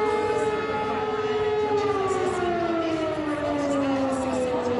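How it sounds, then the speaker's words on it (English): A distant civil defense siren sounding the midday call holds a long steady tone that slowly slides downward, sounding continuously over a faint background hum. "Well, the sirens are ringing out."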